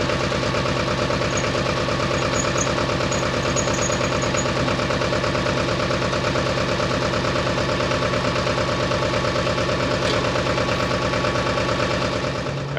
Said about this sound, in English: we're gonna get that cranked up and warmed up so we can get some air over in that tug